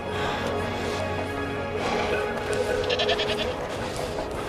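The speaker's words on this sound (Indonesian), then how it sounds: "Lihat, segerombolan kambing." A herd of goats bleats repeatedly along a mountain road on the Karakoram Highway, several overlapping calls close by over a steady background rumble, with no talking.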